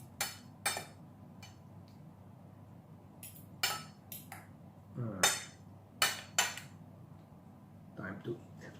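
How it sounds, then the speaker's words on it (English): Spoon or spatula stirring chicken Siam in a metal pan, giving sharp scattered clinks and scrapes in irregular bursts against a quiet kitchen background. "Give it a good stir."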